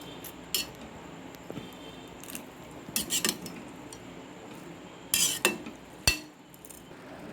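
Vermicelli stirred into water in a cooking pot, with a few sharp metallic clinks and scrapes of a utensil against the pot spaced over a quiet background.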